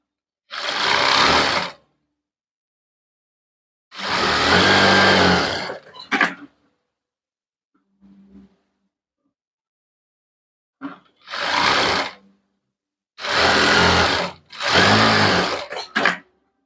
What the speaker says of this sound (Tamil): இப்போ இந்த ஓரத்துலையும் ஓரமாக தையல் போட்டுக்கலாம்.